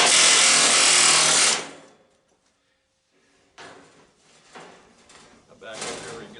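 Power chisel cutting into dryer sheet metal, a loud harsh continuous burst that cuts off abruptly, followed after a pause by quieter intermittent rattling and scraping with some talk.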